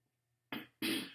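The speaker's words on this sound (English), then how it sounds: "That was in fact a cough." A person coughs twice in quick succession, close and fairly loud, each a short breathy burst after a brief silence.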